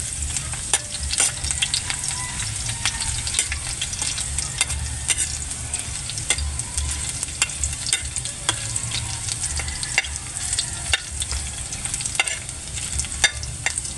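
Garlic sizzling and frying in hot cooking oil in a pan, with steady crackling hiss over a low rumble and occasional sharp pops and spoon stirs throughout, close and alone without talk.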